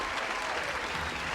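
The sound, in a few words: applause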